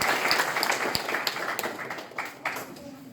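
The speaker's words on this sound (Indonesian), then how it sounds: "kita beri aplaus yang sangat meriah buat leader Masir" An audience applauds a leader named Masir at a company business event, a dense burst of clapping that fades gradually over a few seconds, with a voice speaking faintly alongside.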